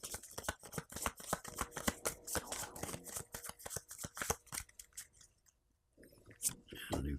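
A deck of game cards being shuffled at a tabletop game, with rapid papery riffles and flicks in close succession, a short pause, then more handling, all close and fairly soft.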